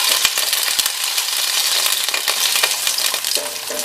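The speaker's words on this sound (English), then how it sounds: "Let's first start sauteing the paneer in vegetables" Paneer pieces fry in hot oil in a pan over medium heat for a mixed vegetable curry, giving a constant close sizzle broken by scattered clicks and scrapes of stirring, with no talking.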